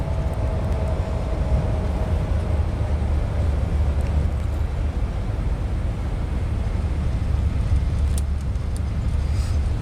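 Engines of a Boeing 777-200F freighter in idle reverse thrust during landing rollout in the X-Plane 11 flight simulator, a steady loud broadband roar with low rumble, continuous and unchanging, with no talk.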